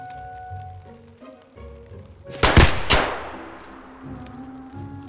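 A short burst of rapid gunfire from the shooter game Escape from Tarkov, a loud cluster of close shots lasting about half a second over quiet in-game ambience, with no voices.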